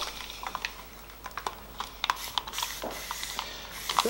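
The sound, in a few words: spray bottle misting water on a watercolour painting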